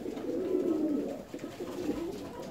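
Fancy pigeons in their compartment coo steadily in low, rolling, throaty calls that overlap and swell and fade, close by, with no talk.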